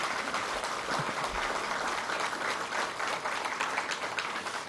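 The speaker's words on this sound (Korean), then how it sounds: "박수 한번 좀 보내주시기 바랍니다" An audience at a monthly staff assembly applauding three firefighters, sustained dense clapping from many hands in a hall, steady and moderately loud throughout with no voices standing out.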